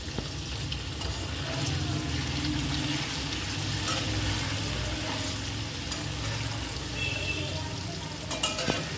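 Paneer fries in a pan with turmeric and chili powder, giving a continuous soft sizzle with faint stirring sounds and light clinks near the end.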